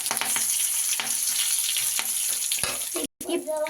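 Mustard seeds and curry leaves sizzle in hot oil, a loud, bright, steady crackle with occasional stirring clatter and a brief dropout near the end.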